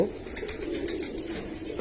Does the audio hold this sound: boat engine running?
no